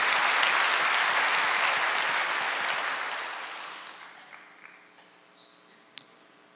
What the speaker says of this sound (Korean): 박수하세요. 우리도 위대한 탕자입니다